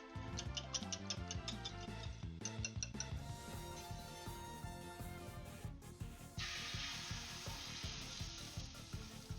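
Eggs sizzle and crackle steadily in a hot pan during bento prep, a dense continuous fry that grows louder and brighter toward the end, with light clinks of utensils early on.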